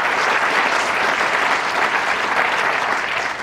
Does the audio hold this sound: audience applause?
yes